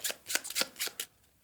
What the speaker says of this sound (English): We shuffle it into the turn deck.